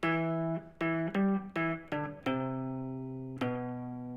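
A guitar plays a riff as clear single notes in a rhythmic run of seven plucks, and the last note rings out long and fades.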